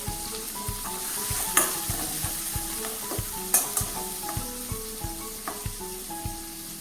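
The white part of an onion sizzles in a hot pan while a spoon stirs it, giving a steady frying hiss broken by repeated soft scrapes and taps at a fairly even rhythm.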